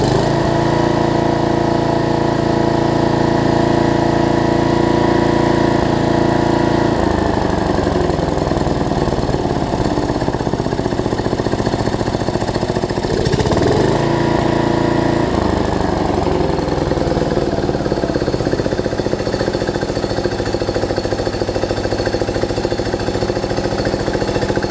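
Murray rear-engine riding mower running steadily, a loud close engine drone with a rattling mechanical buzz, idling down partway through with a brief dip in pitch, no talking.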